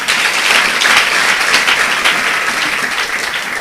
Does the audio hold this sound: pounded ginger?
no